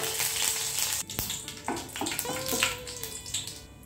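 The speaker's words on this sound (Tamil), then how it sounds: "எண்ணெய் சூடானதும் 1 டீஸ்பூன் கடுகு உளுந்து சேர்த்துக்கிறேன்" Crackling, popping sizzle of mustard seeds and urad dal frying in hot oil, with a few sharper pops and light stirring clatter throughout.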